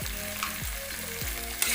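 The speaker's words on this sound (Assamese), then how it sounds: "আৰু এতিয়া এইখিনি আৰু অলপ ভাজিব লাগিব।" Elephant foot yam sizzles in a hot pan with ground spices, coriander powder and vegetable masala while a spatula stirs it in steady scraping sweeps, close and continuous with no talk.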